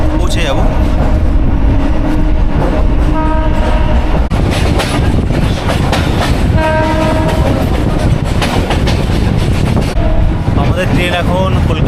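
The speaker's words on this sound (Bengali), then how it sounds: "আমাদের ট্রেন এখন দমদম স্টেশন ছেড়ে দিল" A local train pulls out of Dum Dum station toward Kolkata with a steady, loud rumble and rattle of carriages. Two horn blasts sound partway through, and faint voices sit under the noise.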